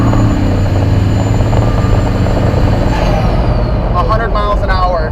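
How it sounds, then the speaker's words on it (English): A 1,200 hp Duramax LB7 diesel truck engine roars steadily at full throttle, a loud, constant drone that rises in pitch near the end, with a voice faintly heard over it. "So I'm quarter throttle, half throttle,"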